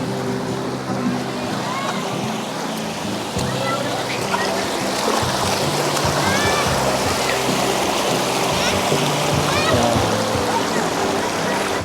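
The Labi River in Nueva Ecija rushes steadily and loudly, a continuous wash of flowing water with no pauses.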